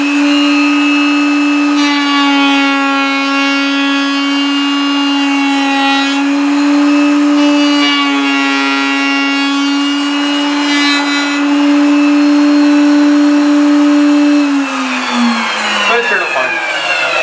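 A loud, continuous high whine comes from a router cutting a wooden guitar headstock into a Martin-style shape, with rasping as the bit bites the wood, then winding down at the end.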